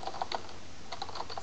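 Quick, fairly soft clicking of a computer keyboard while typing text in Photoshop Elements, an uneven run of close keystrokes, no talking.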